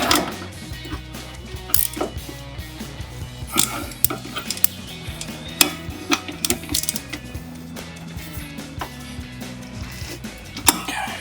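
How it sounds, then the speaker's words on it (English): Metallic ratcheting and clinking of a wrench on nylon lock nuts at the top of front lift struts for a 2007–2018 Sierra 1500, with irregular sharp clicks and taps close by amid mechanical clatter. "Then we're gonna have to put a wrench on it again."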